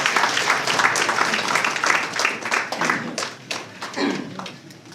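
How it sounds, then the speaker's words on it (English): An audience at the Fulbe Africa festival in Nigeria claps in a dense, sustained round of applause that gradually thins and fades toward the end. "Let's clap one more time for Chief Allen Onyema."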